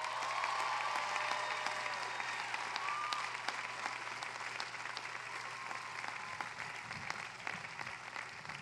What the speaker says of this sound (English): Your families deserve a round of applause.